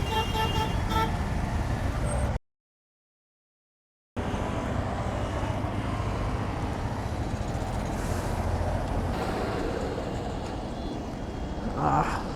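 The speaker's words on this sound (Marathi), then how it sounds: "ट्रॅफिक बघा" Busy road traffic with engine drone and a few car horn toots, heard steadily and fairly near, interrupted by a short silent break.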